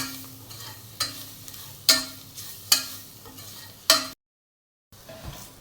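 Masala of coriander powder, pepper powder and garam masala roasting in a pan for a coconut-milk egg curry, with a spoon or spatula scraping and tapping the pan about once a second over a low sizzle, then a brief silence and more stirring.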